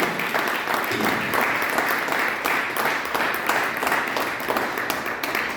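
Loud, vigorous congregation applause at a Sunday church service, sustained dense clapping with a faint rhythmic pulse and worshippers' voices mixed in throughout.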